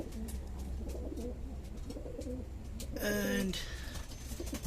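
Pigeons coo in a loft in Vietnam, a steady low murmur of several birds throughout, swelling into a louder nearby call around the middle while someone talks quietly underneath.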